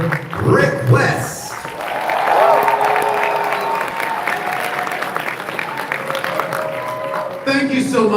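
An audience at a Halloween Horror Nights panel at Midsummer Scream 2025 applauds loudly for about eight seconds as a steady wash of clapping, with some cheering and a voice speaking over it.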